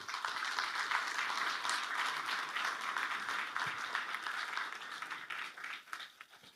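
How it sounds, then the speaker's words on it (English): Audience applause welcomes a delegation from Monaco at an economic forum in Kuala Lumpur, a broad, steady round of clapping that stays even before tapering off near the end. "please join me to give them a big round of applause to the delegation from Monaco"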